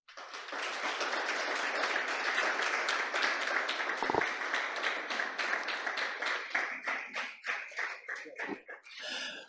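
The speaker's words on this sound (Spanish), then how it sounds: "a quienes de ustedes yo pido un fuerte aplauso" Audience applause after a question-and-answer debate session, a dense burst of many hands clapping that holds steady before thinning into scattered claps and fading at the end.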